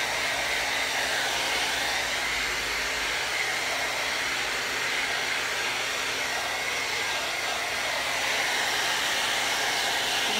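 A hair dryer blows hot air to dry paint on a watermelon painting, a loud, steady, unbroken whooshing hum close by with no talking.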